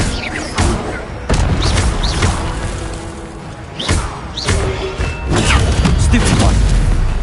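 Incendio fire spell cast in Hogwarts Legacy, with booming whooshes and thuds of spell impacts in game combat, loud and repeated over a dense backdrop of battle effects.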